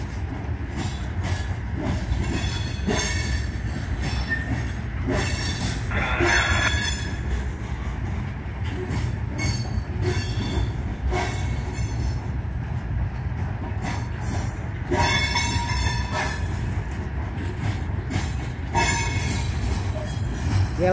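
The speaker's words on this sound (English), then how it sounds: "Only two engines so far for this train." A long freight train hauled by Norfolk Southern locomotives rumbles past steadily and close near Binghamton, with metallic wheel squeals rising at intervals above the continuous roar.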